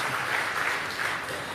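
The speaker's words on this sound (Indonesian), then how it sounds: "Tepuk tangan buat Tuhan Yesus." A church congregation applauds with dense, continuous clapping that stays steady and fairly loud throughout the short stretch.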